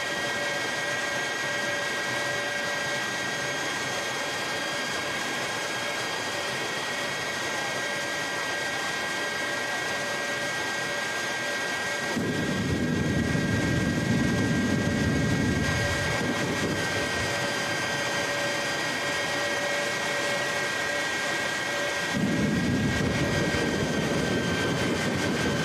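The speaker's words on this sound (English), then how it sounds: "If you're too close to a jet vehicle, you will move." A jet-powered vehicle at Christmas tree drag races, its engine whining steadily with a high turbine tone, then roaring loudly in two big bursts, each lasting a few seconds, close by.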